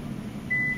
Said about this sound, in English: You hear the beeps.